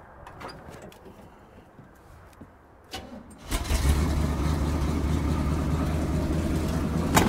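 A 1979 Chevrolet C20 truck engine fires up after brief cranking, jumping from a quiet idle background with birds into a loud, steady running roar that holds to the end.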